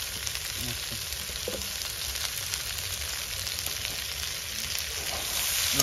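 Food stirred in a hot pan during village cooking of vegetable dal and fish curry, a steady sizzle with occasional soft scraping strokes of a spoon, continuous and fairly close.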